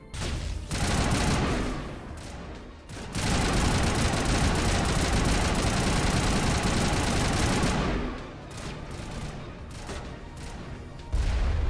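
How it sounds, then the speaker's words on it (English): Sustained rapid automatic gunfire in a sci-fi shooter video game, loud and dense in two long bursts separated by a brief lull, with no talk over it. "Nice shooting, Rex."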